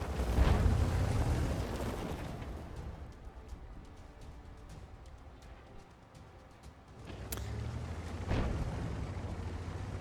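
A tank cannon from the UDES 16 Swedish medium tank in World of Tanks, firing premium gold rounds: booming blasts, one at the start and two more near the end, with a rumbling lull between.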